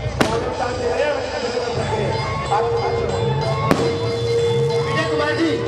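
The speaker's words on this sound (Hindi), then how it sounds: "एक आतिशबाजी आप भी उड़ाएं" Two sharp, loud firework bangs burst a few seconds apart over a noisy crowd and chatter at a Dussehra festival, close by.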